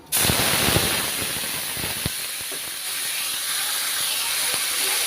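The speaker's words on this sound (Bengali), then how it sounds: "পেঁয়াজের পেস্টটা খুব ভালোভাবে নেড়ে চেড়ে কাঁচা গন্ধটা চলে যাওয়া পর্যন্ত ভেজে নিব।" Onion paste hits hot oil and fries with a sudden loud hiss that settles into a steady, close sizzle, with a few sharp pops and spatters.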